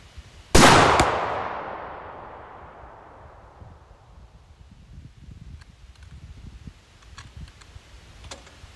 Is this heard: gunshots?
yes